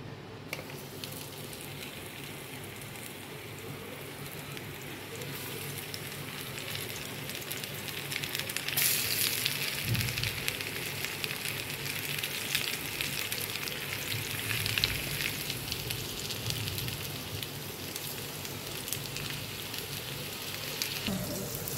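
Rava-coated fish pieces frying on a tawa give off a continuous close sizzle that swells as more pieces go in, with occasional spatula scrapes.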